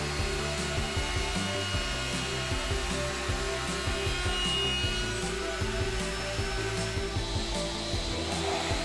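Router table with a power feeder running a small 3 to 4 millimeter bit through 18 millimeter red oak, a steady loud whine with a dense grinding cut throughout and no talk.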